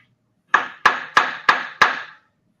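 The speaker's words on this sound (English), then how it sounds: "I'm going to come back up and just give that a tap again." Five evenly spaced hammer taps seating a lathe spindle on a LeBlond lathe, sharp metallic knocks with short ringing decays, close and clear in a quiet shop.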